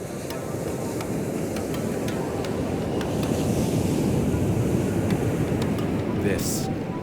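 Steady broadband ocean surf rolls along a Pacific coastline, a continuous wash of breaking waves with some wind rumble, and faint voices in the background.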